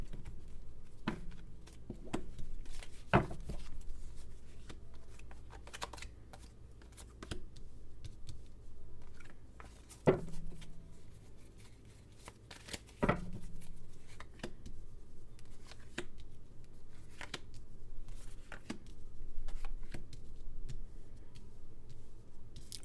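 Deck of tarot cards being cut and shuffled, soft scattered clicks and riffling taps, quiet and close with a faint low background hum.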